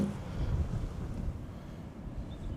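Steady rushing wind through an open top-floor window at Croyde Bay, buffeting close to the microphone, a low continuous roar with no voices.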